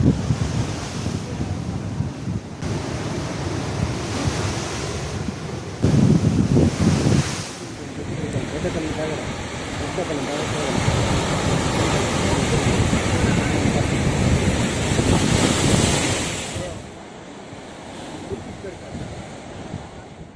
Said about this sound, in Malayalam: ഇവിടെ നിന്ന് കടൽ കാണാൻ നല്ല വ്യൂ ആണ്